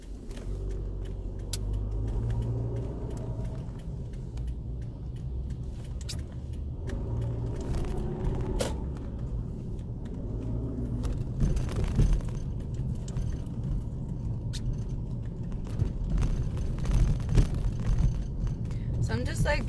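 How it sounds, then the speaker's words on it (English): A car crossing the Brooklyn Bridge toward Manhattan gives a steady low engine and road rumble from inside the cabin, with scattered rattles and clicks on top, and a person speaks over it at times. "I'm just like driving around for you guys to kind of get a feel of the city."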